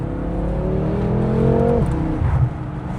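BMW F10 M5 V8 with a Valvetronic valved sport exhaust, revving loud and close with a rising high-pitched wail, then lifting off into crackle and a sharp whip-crack pop on the shift near the end.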